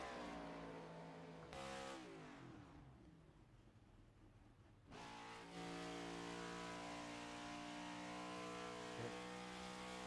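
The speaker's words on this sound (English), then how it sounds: "Let's see if we can see if we can hear the clutching in Sean's car." Race car engine in the Pro Cup Series at Pocono in a sim racing game, revving hard, then dropping sharply as the clutch is dumped, a quieter gap, then engine harmonics climbing back up.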